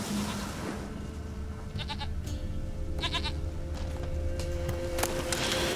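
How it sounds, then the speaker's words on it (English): Goat bleats in The Witcher 3 video game, a few short wavering calls rising over a steady bed of in-game ambience and background noise. "Then we'll keep listening out for the sound of a goat."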